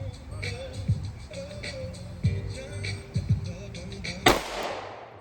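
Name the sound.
gunshots from a micro pistol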